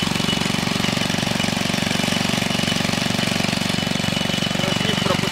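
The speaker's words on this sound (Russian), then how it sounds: "Вот такой вот бензиновый мотор." A petrol engine drives a sugar cane juice press at a roadside stall in Goa. It runs close and loud with a steady, rapid knocking throb, unbroken for the whole stretch with no talk over it.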